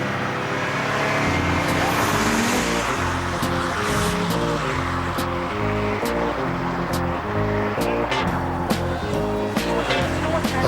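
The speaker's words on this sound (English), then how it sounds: "A 7-speed automatic transmission, a 268 horsepower engine." Mercedes-Benz car with a 268 horsepower engine and 7-speed automatic transmission accelerating in a TV advert, a loud, steady engine roar held throughout under a music bed.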